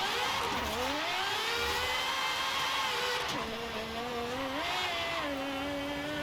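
An Aston Martin DBS accelerates in the racing game Forza Horizon 5, its engine note climbing steadily through a shift and rising again, loud and continuous with no talk.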